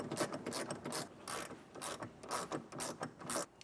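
A ratchet with an extension and a 10mm socket clicks in rapid bursts while loosening bolts during installation of a hidden rack receiver hitch on a 2019 Audi Q3, with close, repeated ratcheting strokes and no talking.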